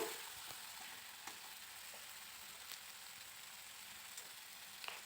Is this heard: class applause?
no